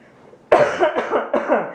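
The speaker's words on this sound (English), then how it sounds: "I'm coughing through this whole video." A person coughs harshly a couple of times in quick succession, close and loud, after a brief quiet moment.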